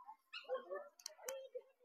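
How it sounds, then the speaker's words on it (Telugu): Indian wild dogs at a zoo give a few short yelps and whines, thin and fairly faint, with quiet gaps between them. "Indian wild dogs"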